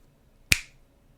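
A single sharp finger snap, crisp and close, standing alone in quiet surroundings with a short decaying tail.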